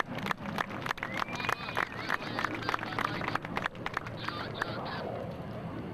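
An airshow crowd at NAS Oceana applauds for aircraft maintainers after an F/A-18C Hornet demonstration, a dense, continuous wash of clapping with a few whistles, fairly loud and sustained.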